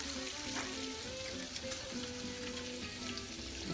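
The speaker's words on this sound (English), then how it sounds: "It's the happy sound of bacon" Strips of bacon sizzle and crackle steadily in a hot pan, a dense, continuous frying hiss that stays close and loud throughout with no voices.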